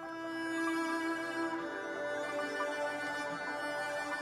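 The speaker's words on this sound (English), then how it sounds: "And the final thing we added to the track was a violin" A violin added to a songwriter's full track, its sustained bowed line riding over a steady, dense mix of pads and accompaniment at even, moderate loudness throughout.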